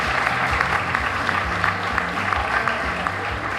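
Steady audience applause for a teacher at a county Teacher of the Year event, dense and continuous throughout, with faint murmur of voices underneath.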